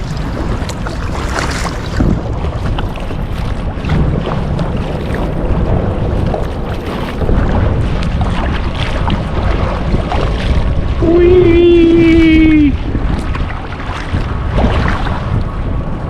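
Strong tailwind buffeting the microphone while paddling a kayak on a river in Boston, a constant loud rushing roar with water sloshing throughout and a brief tonal whine near the end.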